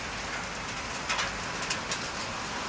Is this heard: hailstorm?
yes